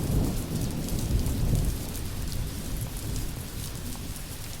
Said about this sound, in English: a light drizzle can swiftly become a downpour that lasts for days on end